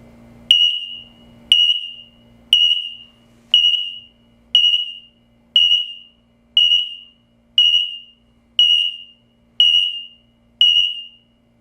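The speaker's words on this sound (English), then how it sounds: "there was an audible beep from all 3 of the detectors here" X-Sense combination smoke and carbon monoxide detectors sound a test alarm together, giving a loud, high piercing beep about once a second, eleven even pulses in a row with no talking.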